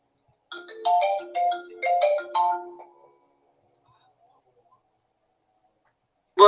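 A telephone rings in a radio call-in studio, a short electronic ringtone of four quick warbling bursts, close and clear, followed by silence and a brief cut-off sound at the very end.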